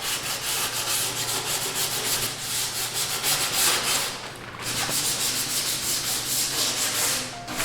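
Dried chalk ground is sanded lightly along its edges, giving a close, continuous abrasive rubbing in steady back-and-forth strokes with one brief pause.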